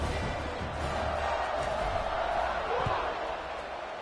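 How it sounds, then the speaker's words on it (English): Stadium crowd at a college football game, SMU opponent, a steady broad buzzing roar that holds level throughout under a play-by-play announcer's commentary. "this crowd is buzzing after that last score"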